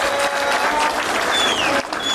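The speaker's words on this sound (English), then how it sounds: "We need to give you a big, big clap." Crowd applause for party delegates at a political rally in Kenya, a dense, loud burst of clapping that carries on throughout.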